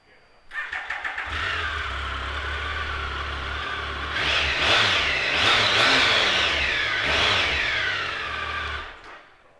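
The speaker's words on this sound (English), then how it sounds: "I'll give it a start up so we can hear that triple noise as well" A 2013 Triumph Tiger 1050 Sport ABS motorcycle's triple engine cranks with a quick starter chatter, catches and idles close by, then revs up in several rising and falling swells before settling back to idle and cutting off.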